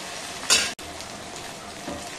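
Dry fish cooks with shallots in a pan as a close, steady sizzle, with a short burst of stirring and a brief clink near the start.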